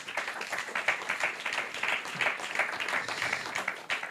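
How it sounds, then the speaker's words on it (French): Audience applause at an awards ceremony, steady dense clapping from a crowd, moderately quiet and continuous for a few seconds without speech. "On peut les applaudir tous les deux."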